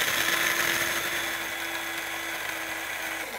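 An electric coffee grinder grinds coffee beans with cardamom, giving a steady, moderately loud whirring drone with a constant motor tone throughout, and no talking.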